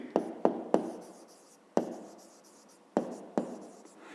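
A pen scratches out a maths solution on paper, several sharp taps of the tip and short strokes in an uneven rhythm, close and quiet with no voice.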